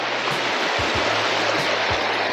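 A waterfall along a backcountry overland trail pours in a loud, steady, broadband rush that fills the whole clip, close by and unbroken, with a few low thumps beneath it.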